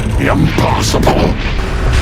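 Loud, dense artillery fire from a gun emplacement rumbles continuously in a battle scene, with booming low-end blasts and crackling bursts layered over shouted voices.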